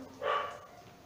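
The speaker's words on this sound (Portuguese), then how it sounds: "Cachorro novamente aparecendo aqui no vídeo, cara." A dog gives a single short bark, moderately close, with faint room noise before and after and no talk over it.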